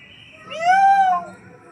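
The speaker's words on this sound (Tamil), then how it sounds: "sound meow" A single cat meows once, a clear rising-falling tonal call lasting about half a second, close to the microphone and distinct over a quiet background.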